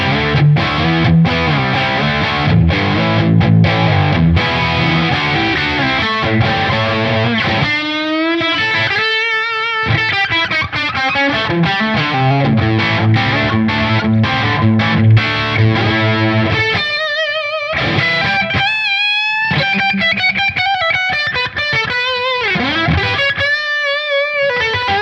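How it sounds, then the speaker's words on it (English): Electric guitar played through a Marshall-style Brit 800 amp model in ToneX, set to its highest gain, rings out as thick, heavily distorted chords and riffs, loud and continuous for the whole stretch, with no talking. "Now let's move to the more modern set tones here, the Brit 800 on the highest gain."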